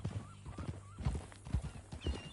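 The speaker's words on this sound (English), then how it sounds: "That a new horse?" A horse in Red Dead Redemption 2 clip-clops with a few soft, uneven hoof steps and lets out a faint whinny, quiet and close against a low backdrop.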